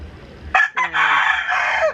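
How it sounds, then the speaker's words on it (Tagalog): A rooster crows loudly and close by, one full drawn-out call rising and trailing off, over faint background noise. "Tumitilaok na siya."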